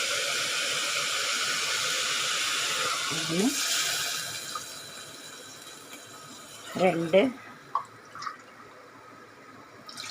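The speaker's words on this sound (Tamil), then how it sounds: "இதுக்கு வேண்டிய தண்ணி விட்டுடலாம்." Water pours steadily into a pressure cooker holding rajma (kidney beans) for a hotel-style gravy, a continuous splashing rush lasting several seconds before tapering off, with someone talking over it.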